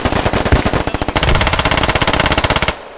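A machine gun hammers out a fast, steady stream of loud shots in the military shooter game Squad, closely fired and evenly paced for nearly three seconds before stopping abruptly.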